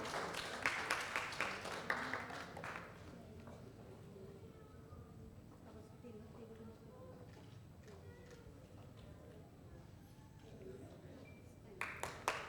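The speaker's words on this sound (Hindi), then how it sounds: "Can we have a big round of applause," Applause from an awards ceremony audience: a short burst of clapping at the start, then a quiet murmuring room with a voice speaking, and a brief return of claps at the very end.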